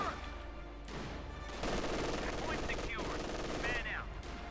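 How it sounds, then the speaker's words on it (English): An MG42 heavy machine gun fires in the game Company of Heroes 2, rapid bursts of dense gunfire in close, loud stretches, with a commentator talking over the battle. "MG42 they're firing away."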